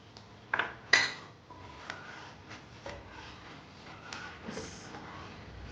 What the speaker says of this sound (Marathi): आता आपण त्याच्यामध्ये आहे ना साखर टाकूया.